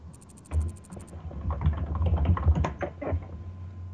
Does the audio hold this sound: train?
no